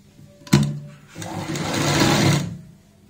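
A sewing machine stitches lace onto a top, a sharp click followed shortly by a rapid whirring burst of stitching lasting just over a second, close and clear with no talk.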